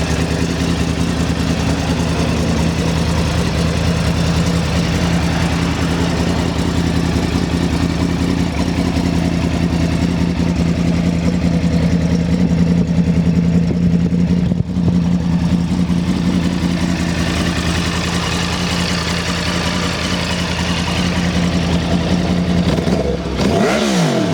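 A Yamaha YZF R1 with its Crossplane engine idles steadily and close up for a long stretch, a smooth even drone, then gives one brief rev near the end.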